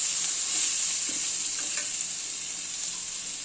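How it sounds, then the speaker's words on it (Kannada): Sambar powder is stirred into onions frying in oil, giving a steady bright sizzle with a few soft scraping stir strokes, close and continuous with no voices. "ಸಾಂಬಾರ್ ಪುಡಿನ ಆನಿಯನ್ಗೆ ಮಿಕ್ಸ್ ಮಾಡ್ಕೋಬೇಕು."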